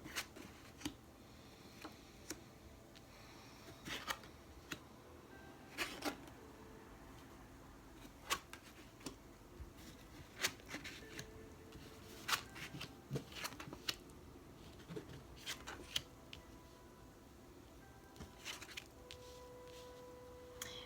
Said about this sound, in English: So just give me a minute to flip the cards and check in with the energy.